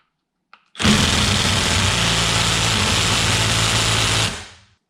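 A DeWalt impact wrench fitted with a drill impact adapter hammers on a half-inch bolt, a loud sustained mechanical rattling burst of about four seconds after a brief click, then winding down.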